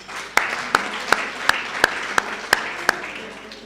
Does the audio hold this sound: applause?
yes